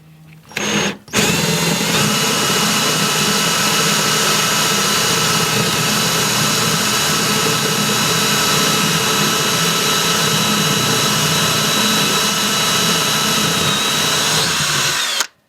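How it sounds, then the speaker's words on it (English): A drill spins a Forstner bit into a wooden drawer face, running loud and steady for about fourteen seconds after a short start, then cutting out at the end. "So I chose a Forstner bit that's definitely bigger than this, that way I have some room to work in the hole."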